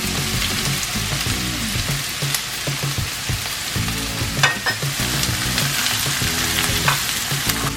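Onion, garlic and ginger frying with asafoetida in hot oil for dal makhani, a loud, dense, continuous sizzle with stirring crackles throughout.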